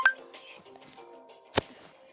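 Opening a big box in the Brawl Stars mobile game brings bright glassy clinks and chimes, with a sharp hit at the start and a louder burst midway over soft tonal game music.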